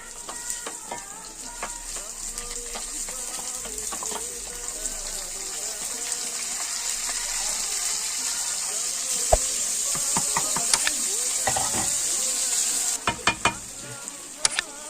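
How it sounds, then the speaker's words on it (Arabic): Rice poured into vermicelli frying in oil in a pot and stirred together, giving a steady sizzle with scraping stirs and a few sharp clinks near the end, no talking. "كده قلبنا الرز مع الشعريه"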